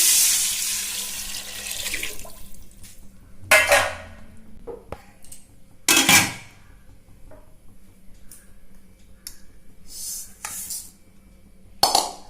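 Tap water runs into a sink while rice and mung lentils are washed by hand, coming in several splashy bursts separated by quieter pauses with faint clinks of a pot.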